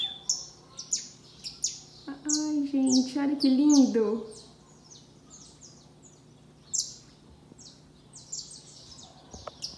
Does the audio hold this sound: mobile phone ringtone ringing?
no